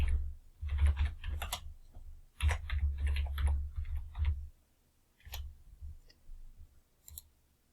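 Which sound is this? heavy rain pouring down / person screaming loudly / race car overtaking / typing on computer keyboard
typing on computer keyboard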